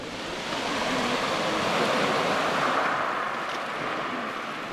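Steady, broad roar of big surfing waves at Les Caïtes beach washing continuously, loud and unbroken, with a windy rush over it.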